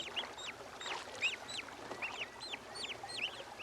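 A wild turkey hen answers her straggling poult with a rapid run of repeated short clucking calls, steady and moderately close across the stretch, with no voices over them.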